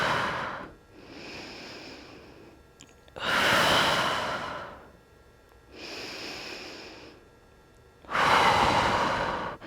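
Slow, deep breathing during a full-body posture stretching routine: three long, loud inhalations alternate with softer, drawn-out exhalations, close and clear with no talking.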